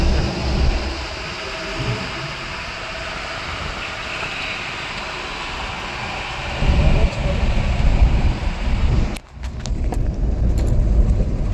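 Steady engine drone and road rumble from a hired car driving on a mountain road toward Janki Chatti, continuous and fairly loud, with a brief dip and a few rattles near the end.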